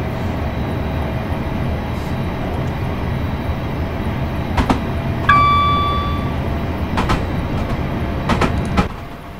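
A train passes in Train Simulator 2018 on the Woking to London Waterloo line, a steady rumbling wash with a few sharp clanks and a brief high whistle-like tone midway, with no voices.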